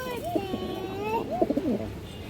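A pigeon coos close by, two drawn-out warbling calls with a short gap between them, from a high-quality fancy breeding stock kept in a dim loft.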